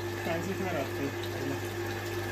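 A household tap runs into a container, giving a steady rushing fill over a constant low mechanical hum, with faint voices in the background.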